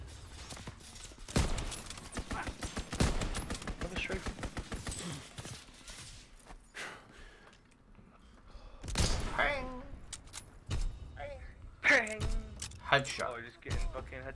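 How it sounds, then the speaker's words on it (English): Strafing-run gunfire in a WW2 video game: a rapid, crackling string of shots for several seconds, then fading into scattered thuds while players talk over it. "Strafing run inbound!"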